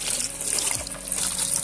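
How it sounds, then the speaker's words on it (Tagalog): Boiled pork hock broth gushes steadily into a pot of sautéed mung beans, a close, continuous pour that splashes and churns without a break. "ilagay na natin yung ating pinagkuluan ng ating pata. So buhos na natin dito."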